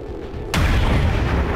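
A loud, sudden blast of gunfire in the video game XCOM 2: War of the Chosen erupts after a quieter stretch, with a heavy booming report that keeps ringing and rumbling for over a second.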